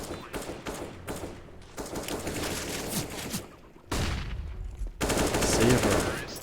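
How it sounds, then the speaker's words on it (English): Gunfire in a competitive team shooter video game rings out in rapid overlapping bursts and single cracks, fairly loud with abrupt shifts in the mix, continuous across the clip with no clear talk. "Beautiful shot to find Dory. Lovely, lovely shot."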